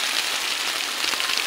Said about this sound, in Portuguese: Nossa terra abençoada, é chuva, é chuva, é chuva, é chuva.